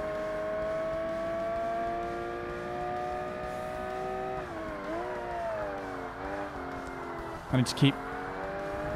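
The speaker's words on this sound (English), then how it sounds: "This actually revs a little bit higher than I thought initially." A race car engine in the video game Forza Motorsport revs high under a player's talk, a steady whine that dips and climbs again as the car shifts, with a short burst of noise near the end.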